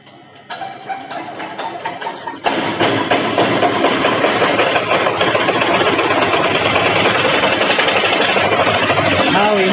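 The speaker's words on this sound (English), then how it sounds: "Now we are cranking the engine." An engine is cranked by hand and then catches, a brief rattling turnover followed by a loud, steady, dense running clatter that continues close by to the end.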